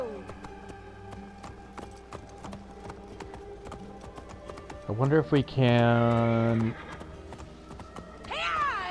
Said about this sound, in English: Let's see if we can ride a horse.